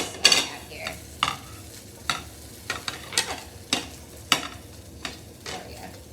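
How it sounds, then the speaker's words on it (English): A chicken quesadilla tortilla sits in a hot pan as a utensil stirs and scrapes, making regular sharp clinks about once a second over a low, steady sizzle, close and clear with no talking. "I'm going to go ahead and flip that tortilla onto the other side"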